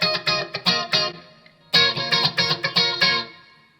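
Electric guitar played through a Roland GT-1000 effects unit on a clean tone, a short phrase of bright strummed chords with a brief pause midway, ringing out close and clear.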